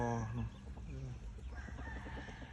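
A chicken clucks and crows close by in a small garden, a harmonic call rising and falling for a couple of seconds over a steady outdoor background.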